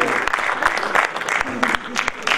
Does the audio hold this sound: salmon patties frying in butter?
no